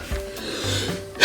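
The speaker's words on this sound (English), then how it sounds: "Sneezing while in this position is bad news." A single sharp sneeze bursts out near the end, loud and close, after a stretch of quiet room noise.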